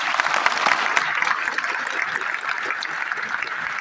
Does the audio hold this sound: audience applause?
yes